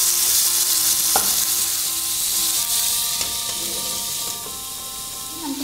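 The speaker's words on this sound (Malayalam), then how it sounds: "ഇതേപോലെ തക്കാളി നന്നായിട്ട് വഴറ്റിയെടുക്കണം കേട്ടോ." Tomatoes sautéing in a hot pan make a continuous loud sizzle with occasional stirring scrapes, close up and without speech.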